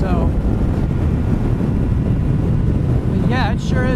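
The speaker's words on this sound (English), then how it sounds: "it sure is windy here" Strong wind buffets the microphone while riding a sportbike on a windy road in Maui, a loud, steady roar that fills the whole stretch, with a voice speaking briefly near the end.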